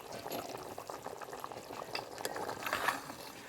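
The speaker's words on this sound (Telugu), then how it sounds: "ఇదిగండి కూర ఉడుకుతుంది" A half-cooked curry boiling in a pot makes a continuous bubbling, gurgling burble at moderate volume, with small pops rising slightly toward the end and no voices.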